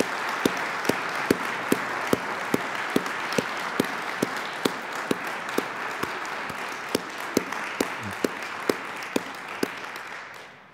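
An audience at the dedication of the IU Kokomo Student Activities and Events Center gives a sustained round of applause, a dense, even clapping that fills the room, with a few sharper claps standing out near the front before it fades at the end.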